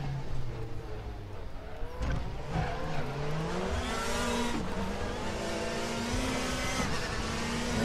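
Citroen WTCC touring car racing at the Macau circuit in RaceRoom Racing Experience, its engine droning and revving steadily through gear changes, loud and continuous with some tyre noise.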